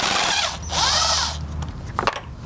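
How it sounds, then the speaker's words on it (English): A power drill backs a Phillips head screw out of a torn plastic cover on an Audi, whining loudly as it revs up and down in two bursts, then a few small clicks of handling follow. "It's only held in by this one Phillips head screw."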